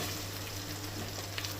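Sliced onions frying with ginger garlic paste in hot oil for chicken biryani: steady dense sizzling and crackling close up, with a faint stir or two near the end.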